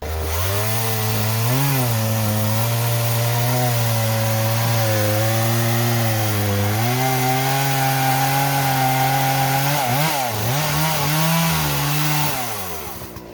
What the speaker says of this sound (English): give up when you use the chainsaw